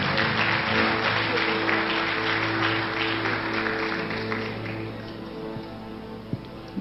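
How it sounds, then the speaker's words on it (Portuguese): A church congregation applauds, a broad, steady roll of many hands clapping that slowly fades, with an organ-like sustained tone underneath. "aplaudindo a Jesus, porque Ele é bom."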